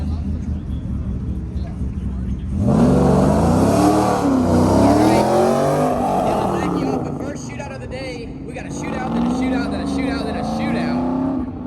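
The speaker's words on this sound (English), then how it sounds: "Drifting around the first turn into the slalom." An autocross car drifts around the first turn into the slalom at a grip autocross event, its engine revving and rising in pitch as it accelerates, loud and close, with a commentator talking over it.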